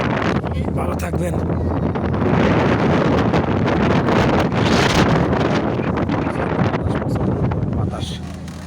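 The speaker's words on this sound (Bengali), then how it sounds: "বাতাস" Strong wind buffets a ship at sea on the crossing between Cox's Bazar and Saint Martin's Island, a loud, steady broadband roar with gusty surges and muffled voices beneath it.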